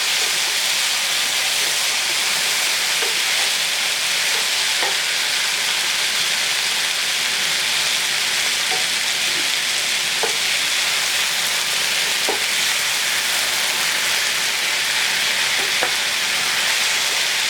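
Spiced shrimp stew sizzling and bubbling in a pot as it is stirred, a loud, steady hiss close by with faint periodic clicks, no one talking.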